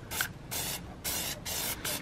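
Four hissing bursts from an aerosol spray can of Plasti Dip wheel coating, sputtering unevenly, each lasting about a quarter to half second with short gaps, loud and close.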